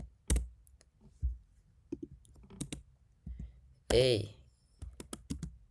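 Keys on a computer keyboard click in scattered, close taps and short runs, some louder than others, while someone talks intermittently over them.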